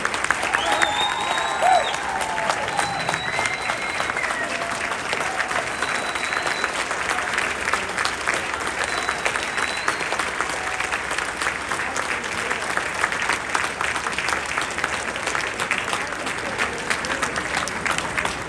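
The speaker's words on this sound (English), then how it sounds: "Another round of applause for Nigel" Audience applause for Nigel at an America's Comeback Tour event, dense sustained clapping from a large crowd that holds steady and fairly loud throughout, with faint voices mixed in.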